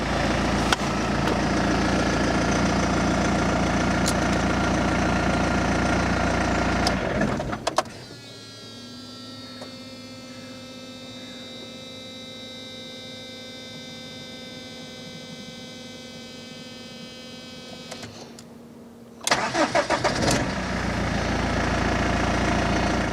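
A BMW E46 3 Series six-cylinder engine, just fitted with a new fuel pump, cranks and catches, then settles into a steady close idle with a whining tonal hum before a louder burst returns near the end, with no voices.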